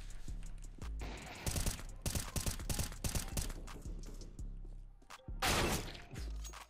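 M4A1-S rifle fire in a video game, heard as bursts of sharp, closely spaced shots in rapid clusters with short pauses between them. The shots are loud and close, with a heavy volley near the end.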